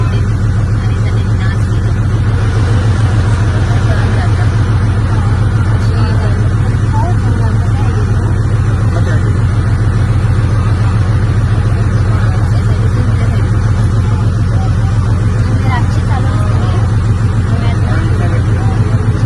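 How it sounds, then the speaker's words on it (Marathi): A ferry boat engine in Goa, running as a loud, steady low throb for the whole stretch, close by, while people talk over it. "आता स्टार्ट झाली फेरी बोट"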